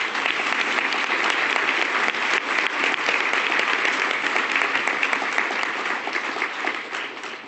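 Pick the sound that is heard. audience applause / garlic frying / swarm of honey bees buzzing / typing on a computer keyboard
audience applause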